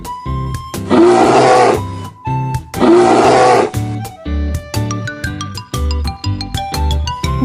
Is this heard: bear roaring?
yes